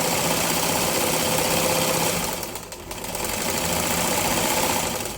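Sewing machine stitching a blouse lining in a straight seam, a fast steady mechanical whirring hum that briefly slows and dips midway before running on again, close and alone.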